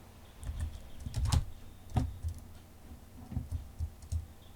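A computer mouse clicking while building in modded Minecraft: a series of soft, close, irregular clicks and taps, fairly faint, with a few louder clicks clustered together.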